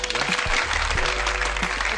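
A burst of fast, light clapping from a small group, continuous and close over a steady background hiss, with no talking.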